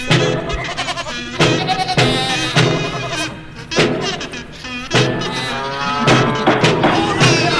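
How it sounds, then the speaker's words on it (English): Farm animal sound effects played during a livestream show, with loud cattle moos and sheep bleats following one another in long, overlapping calls, close and prominent with no talk. "let's get the farm animals in here"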